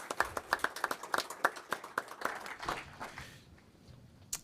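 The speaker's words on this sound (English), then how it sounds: "we could give them, RUHS, one more round of applause," Scattered, fairly close hand claps from a small city council meeting audience, a quick irregular round that thins out and fades after about three seconds.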